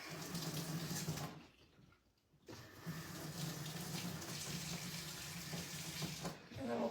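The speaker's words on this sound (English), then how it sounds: "And you wash these just like you would normally, okay?" Tap water runs steadily into a kitchen sink as DIY pots are washed, a continuous splashing rush that drops out briefly near the start and then resumes with faint clatter.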